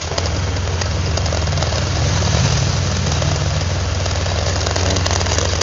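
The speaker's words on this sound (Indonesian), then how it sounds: "Oke, sekarang kita coba nyalakan mesinnya." A Honda Vario 150 scooter engine runs at a steady idle, close and loud, as an even drone that holds for the whole stretch with no voices over it.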